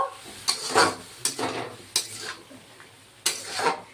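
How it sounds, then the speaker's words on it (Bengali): Pointed gourd curry sautéing in a pan with a little water, a soft sizzle under repeated scraping stirs of a utensil against the pan, close and fairly quiet. "একটু জল দিয়ে আর একটু কষিয়ে নিব"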